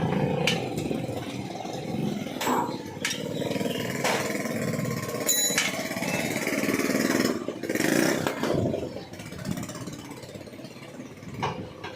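Repaired motorcycle engine running steadily at close range, a rough continuous roar with a few brief revving surges, heard alone without talk.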